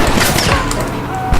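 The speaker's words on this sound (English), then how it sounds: "You man the Gatling gun, Marston!" Rapid Gatling gun fire in the Red Dead Redemption video game, a dense continuous burst of loud shots running the full length, with a voice shouting over it.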